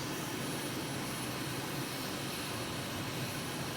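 An Aermacchi MB-339 jet engine in Microsoft Flight Simulator gives a steady, broad roar with a faint high whine, constant and unbroken, heard alone in a brief stretch.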